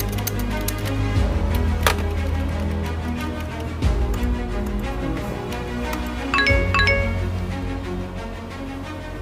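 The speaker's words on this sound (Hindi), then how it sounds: "हाँ नोटिफिकेशन तो आई है" A phone notification chime rings out sharply twice, bright ringing tones that decay over a steady low hum, with a quieter click-like tap between them.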